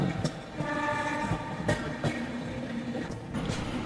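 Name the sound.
train journey to Araku leaving Kottavalasa junction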